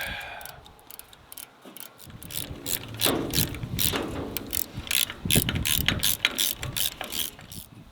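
A ratchet wrench working a bolt loose on a 1959 Case tractor, with rapid close clicking bursts and repeated strokes along with metallic clanks; no speech.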